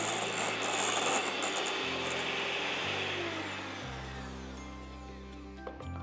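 An electric mixer beats butter until fluffy, giving a loud, continuous buzzing whine close by whose pitch drops in steps as the load changes, with no talking.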